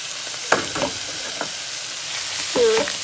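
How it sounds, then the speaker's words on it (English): Mincemeat fries in seasoned oil in a cooking pot for shepherd's pie, a steady close sizzle broken by a few scraping stirs of the spoon. "so we're going to add the mincemeat to this."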